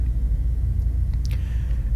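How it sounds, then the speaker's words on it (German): Deep, steady low rumble of gathering thunderclouds in the fantasy video game Pillars of Eternity, a continuous distant roll with faint higher flickers over it. "als sich mit tiefen Grollen dunkle Gewitterwolken zusammenziehen"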